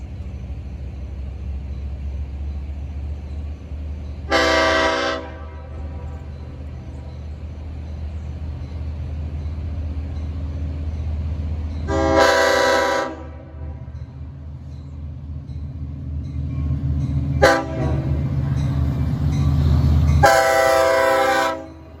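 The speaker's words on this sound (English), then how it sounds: "I can hear 9263 blowing for the Bethpage crossings as 9262 approaches" Locomotive 9263 on the Central Branch shuttle sounds its horn for the Bethpage crossings while 9262 approaches, four loud horn blasts spaced apart over a low rumble of idling and passing rail traffic.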